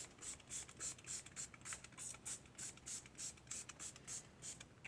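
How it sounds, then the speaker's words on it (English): Quick, rhythmic pumps of a spray bottle, a soft hissy spritz repeating about three times a second, faint and close. "I'm going to spray that on here so that I can have some yellow"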